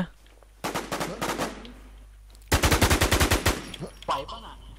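Rapid automatic gunfire in a shooting video game, with two bursts of fast, regular shots, the second louder and closer, and a brief pause between them.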